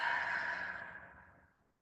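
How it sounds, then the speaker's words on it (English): A long breath is pushed out through the mouth after being held, during a guided breathing exercise. The airy exhale is close and clear, fading smoothly over about two seconds into silence, with no talking. "And then exhale through the mouth."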